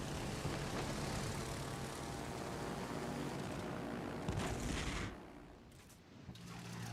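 Warplanes drone loudly in World of Warships Legends, a dense engine roar that holds steady and then drops off sharply near the end, with no talk.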